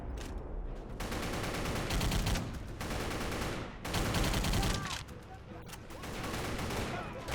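Video game gunfire mows down lined-up enemies in dense, sustained bursts of rapid shots, loud and close, broken by short pauses between volleys.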